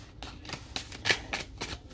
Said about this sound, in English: I shuffled the heck out of these cards, y'all.